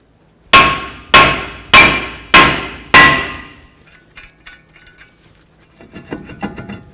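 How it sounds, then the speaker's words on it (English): A hammer strikes a seized brake rotor on a 2006-2012 Ford Fusion five times in steady, loud metallic clangs with ringing decay, followed by quieter scattered clinks and handling noises. "we're going to hit right along this area here just to cause some vibration and break this free"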